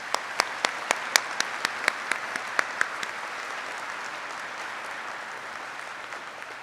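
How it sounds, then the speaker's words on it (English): Audience applause for newly graduated warrant officers at a ceremony, a broad wash of clapping with a few loud, distinct claps close by early on, then a softer, even patter fading toward the end. "Please join me in a round of applause for these outstanding warrant officers."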